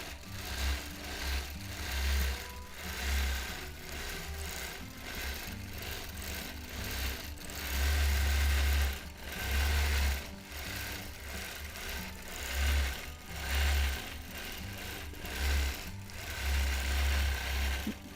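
Quilting sewing machine stitching a free-motion palm-leaf design, a steady mechanical hum with rapid needle chatter that swells and eases in repeated bursts as the stitching speeds up and slows down, close and continuous.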